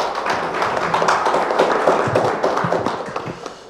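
An audience at a national assembly policy forum applauds to welcome a committee chairman: loud, close, irregular clapping with individual hand claps audible throughout, slightly swelling in the middle.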